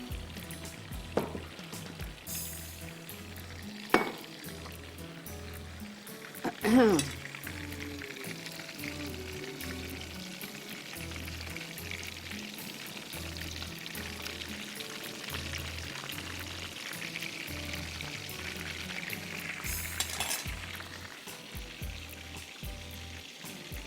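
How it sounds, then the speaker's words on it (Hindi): Chicken seekh kebabs frying in a pan, a steady soft sizzle with occasional pops and a brief stirring or pouring sound, close and continuous with no talking. "बहुत तेज़ पे भी नहीं फ्राई करिएगा, ठीक है, और बहुत स्लो पे भी नहीं करिएगा।"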